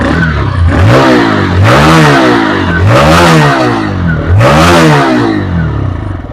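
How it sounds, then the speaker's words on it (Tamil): A TVS Raider 125 motorcycle engine is revved three times through its silencer, each loud rising-and-falling vroom close by and alone, idling between bursts. "சைலன்சர் சவுண்ட் நல்லா இருக்குது."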